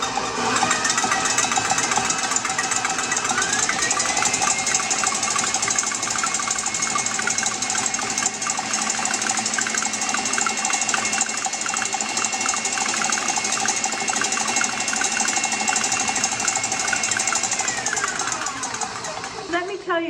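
Electric mixer on high beating egg whites with a pinch of cream of tartar, a continuous buzzing whir with a steady motor tone that shifts pitch slightly partway, running nearly the whole time beneath talking.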